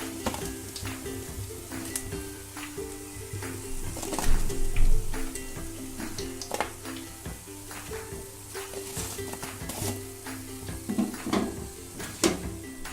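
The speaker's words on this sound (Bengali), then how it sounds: "লাল করে ডিপ ফ্রাই হওয়ার পরেই ভেজে তুলে নিচ্ছি।" Chicken popcorn pieces deep frying in hot oil, a steady sizzle with scattered pops and clatters of utensils and pans running under it throughout, no talking.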